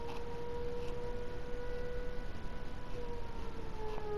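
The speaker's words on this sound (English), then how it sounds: "Tornado siren test." A tornado siren test sounds as a steady, sustained wail that holds a high tone with slight drifts in pitch, heard continuously at moderate volume from a distance with no voices.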